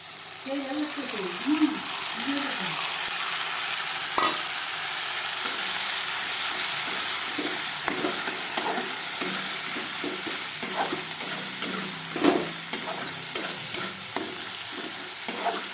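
Continuous sizzle from a hot pan with frequent scraping and tapping as spice paste is stirred and fried, with a voice speaking briefly near the start.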